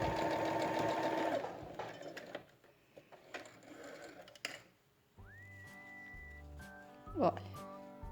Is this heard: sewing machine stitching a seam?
yes